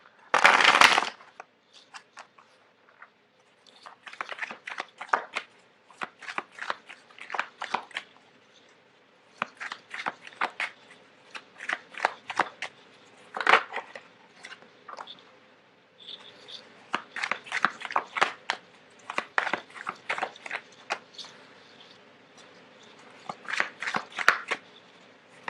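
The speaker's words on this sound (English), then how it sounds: "I have to put something hard here so I can shuffle on top of it" Tarot cards are shuffled on top of a hard surface in repeated bursts of crisp riffling and slapping, close and fairly quiet, with brief pauses between rounds.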